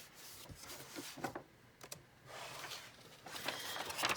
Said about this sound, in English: Now we're going to need a pair of scissors.